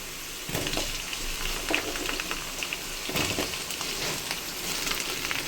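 Okra (bhindi) added to a hot pan with onion and oil, frying with a continuous crackling sizzle and several sharp stirring clatters, close and moderately loud, no voices.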